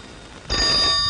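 A telephone bell starts ringing abruptly about halfway through a short moment, loud and close, and sustains to the end.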